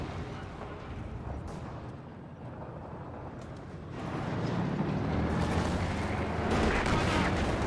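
A Panzer IV tank fires in the video game Company of Heroes 2 amid rumbling battle noise, with heavy blasts and crackling impacts that swell louder in the second half.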